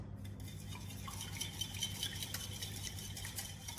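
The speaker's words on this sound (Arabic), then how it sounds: "نخلطهم مليح مع بعض" Fresh cream, milk, oil, salt, black pepper and herbs stirred together in a bowl, a soft continuous swirling with faint clinks of a utensil against the side, close and steady with no talking.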